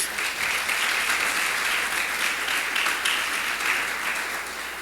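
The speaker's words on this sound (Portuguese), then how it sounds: "Vamos aplaudir forte ao Senhor Jesus." A church congregation claps loudly and steadily for about five seconds, a dense continuous wash of applause from many people with no voices above it.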